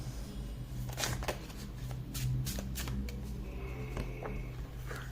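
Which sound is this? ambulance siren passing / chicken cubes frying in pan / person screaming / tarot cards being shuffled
tarot cards being shuffled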